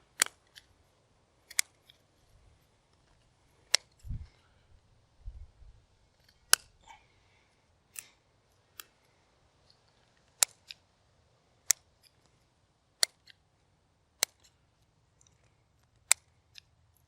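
Dull scissors snip pepper plant stems in sharp, isolated clicks, roughly one every second or so, quiet and close, with faint handling rustle between cuts.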